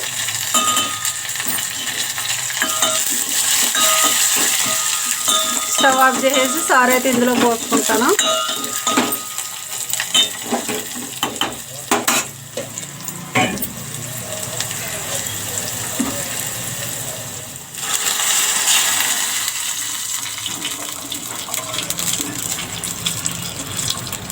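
Curry leaves and asafoetida sizzle loudly in hot oil close by, a continuous crackling hiss with stirring and scraping throughout and a surge of spitting partway through.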